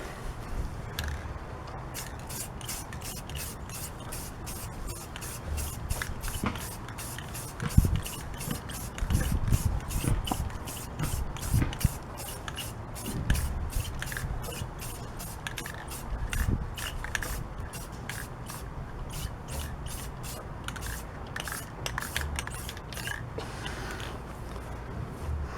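A spray paint can hisses as a final heavy coat goes onto an aluminum wheel rim, long steady sprays with short pauses and a few scrapes and knocks between them.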